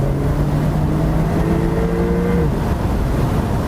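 Porsche 992 Targa 4 GTS flat-six engine revving steadily through high RPM, a sustained loud tone climbing and holding before easing off, with no voices.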